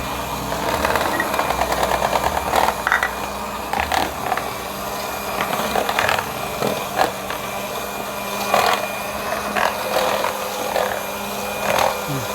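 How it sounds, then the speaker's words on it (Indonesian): An electric mixer on its lowest speed beats pempek lenjer dough, a close, steady motor whir with rhythmic thumps and rattles from the beaters churning the thick mixture. "Dengan kecepatan 1 saja dalam mengocok ya, seperti ini."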